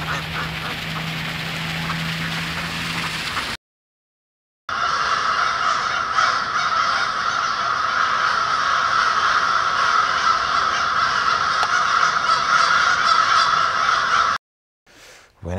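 Crows caw repeatedly in a steady outdoor chorus, loud and continuous across most of the stretch, broken by a brief silent gap and ending abruptly, with no talking.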